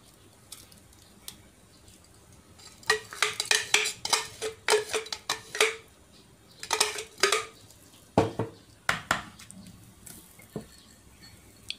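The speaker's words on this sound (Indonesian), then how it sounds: "kita masukkan bahan yang sudah di blender tadi ke dalam ayam." A blended spice paste is scraped into chicken in a pan for ayam masak palu, with irregular clinks and scrapes of a utensil against cookware and soft stirring, fairly close and with no voices.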